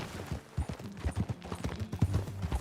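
Horse hooves galloping in Red Dead Redemption II, a quick rhythmic pounding of heavy close footfalls that runs the whole time with no voices.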